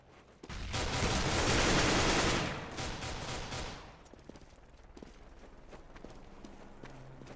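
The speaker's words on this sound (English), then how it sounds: "Grenade." A grenade explodes in Counter-Strike: Global Offensive, a loud sustained blast with crackling debris lasting a few seconds before fading into quieter gunfire and background game noise.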